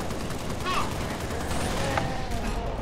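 Rapid gunfire in Halo Reach during the Nightfall mission, a steady stream of shots and bursts running throughout at moderate loudness, with faint bits of voices.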